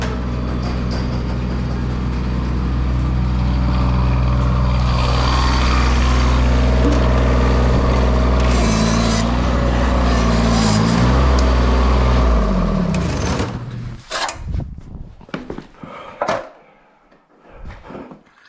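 A John Deere 332 diesel garden tractor drives with a loud, steady engine roar for about twelve seconds, then winds down, leaving irregular knocks, clunks and rustling as it comes to a stop.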